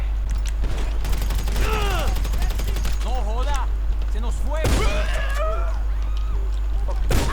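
Bursts of gunfire from a boss enemy in GTA V Online sound amid whirring, swooping game effects and mechanical rattles, with a steady low hum underneath and a loud surge partway through.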